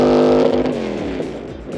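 Racing jet boat engine at a river race on wet stones, heard at a distance as the boat scrapes upstream: a steady, loud, rough roar with a falling pitch, continuous throughout.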